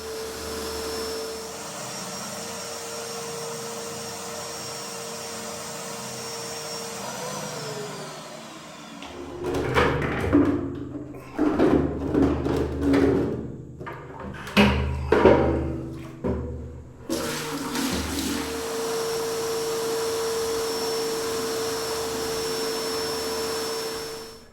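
A shop vac whines steadily while sucking water out of a cistern tank, breaking midway into gurgling, sputtering slurps and bursts as it pulls water, then settling back into an even drone.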